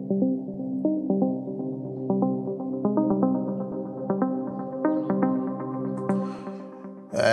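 An afro house track made in FL Studio plays steady repeating chords and a pulsing beat while filter cutoff automation gradually opens the sound, brightening it toward a sudden loud burst at the end.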